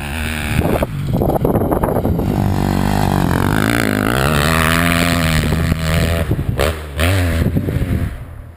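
A motorcycle is ridden hard through corners on a training course, the engine revving up and down close by with loud, shifting pitch, throttle blips and a brief drop in sound.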